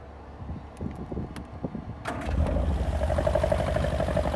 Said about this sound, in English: Starts on the button, no rattles, no smokes.